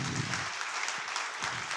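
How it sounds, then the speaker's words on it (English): Applause from a conference audience after a talk, a steady wash of many hands clapping, moderately distant, with faint low thumps underneath. "Let's have a round of applause."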